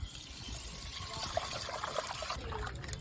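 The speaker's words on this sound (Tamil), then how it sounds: "கடைசியில் எண்ணெய் கறிகளை ஊற்றிங்க." Oil being poured over meat curry at the end of cooking, a steady liquid trickle and splash close by for about two seconds before it tapers off, with no voices.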